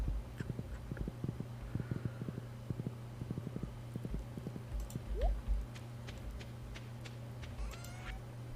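Rhythmic hoof clip-clops from a horse in the Stardew Valley farming game repeat in quick bursts over a low, steady background hum, fairly faint, with a few scattered game effects.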